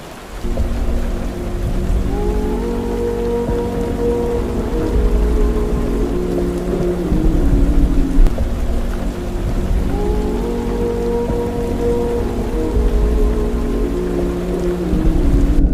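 Heavy rain pours steadily outdoors around a road-building crew working on asphalt, a loud constant wash with low rumbling underneath and faint tonal hums drifting through.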